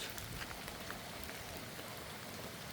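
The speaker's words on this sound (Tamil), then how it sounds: "தண்ணி இப்படியே இதுக்கால கொஞ்சம் இப்படி ஓடிக்கொண்டிருக்குது" Rainwater running along the ground during a downpour in Sri Lanka, a steady, soft wash of rain and trickling flow with no voices.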